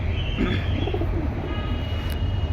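Pakistani high flyer pigeons coo softly over a low background rumble, with a few faint chirps and calls scattered through the short stretch and no voices.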